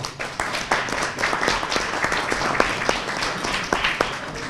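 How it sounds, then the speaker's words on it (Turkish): Audience applause at a school education award ceremony in Kahramanmaraş, a dense, loud burst of many hands clapping with sharp individual claps standing out, continuous throughout, with faint crowd murmur underneath. "Onları da sizlerin bir alkışlamasını istiyorum."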